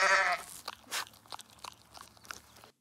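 Goats bleat in a Thor: Love and Thunder movie trailer, a loud wavering bleat at the start followed by scattered short crunching hits and fainter bleat-like bursts.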